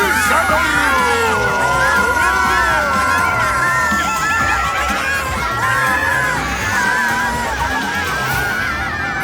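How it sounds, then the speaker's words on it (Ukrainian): Characters in the Ukrainian animated series Babai shout and scream together in a loud, continuous, chaotic crowd. Shrill overlapping voices rise and fall throughout. "Вони тепер до самого села кричати будуть."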